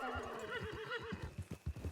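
A horse in the video game Red Dead Redemption gives a loud, close whinny, followed by a run of rhythmic hoofbeat clip-clops, with no talk.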